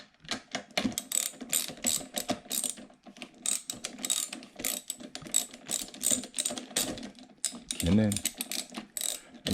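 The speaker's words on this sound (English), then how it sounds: "Ratchet." A hand ratchet clicks in quick bursts of pawl ticks while tightening a spark plug on a Honda EU2000i generator, close and crisp, with brief pauses between strokes and a short spoken phrase.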